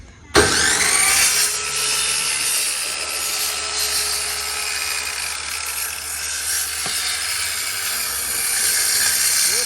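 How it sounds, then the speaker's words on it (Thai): Power drill with a dedicated wood-boring bit cutting into wood during roofing work on a house, a loud continuous grinding whine that starts abruptly and runs steadily throughout, close to the microphone. "เป็นหัวเจาะไม้โดยเฉพาะเลย"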